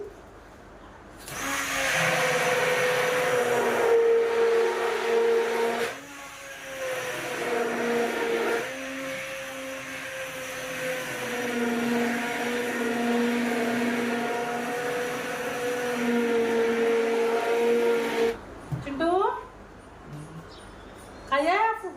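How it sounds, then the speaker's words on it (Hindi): A blender motor whirs steadily for most of the clip, blending cream and curd, its pitch shifting as the contents churn, then cuts off abruptly near the end. "तो अब मैं इसको ब्लेंडर से ब्लेंड करना शुरू करती हूँ"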